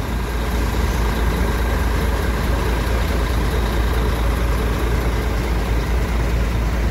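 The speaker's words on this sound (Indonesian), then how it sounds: "Untuk mesin masih halus bunyinya." A bus engine idles smoothly nearby, a steady, loud low rumble that holds without change throughout.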